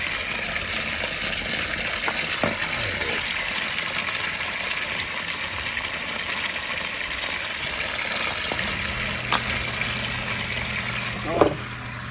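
Water pours steadily into a sump pit during a sump pump installation, a constant rushing trickle with a few faint knocks and clicks nearby.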